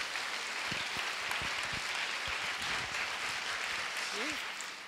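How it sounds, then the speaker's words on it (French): Audience applause at a student fashion-design show, a dense, steady wash of clapping that holds across the whole stretch, with faint voices underneath and a brief tonal squeak near the end. "Ça s'applaudit,"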